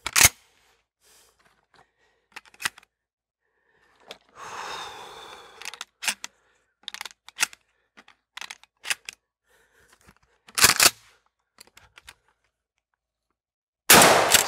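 A Mossberg 500 pump shotgun firing during a high-round-count stress test outdoors, several sharp, loud blasts spaced seconds apart, with quieter clacks and handling noises between shots.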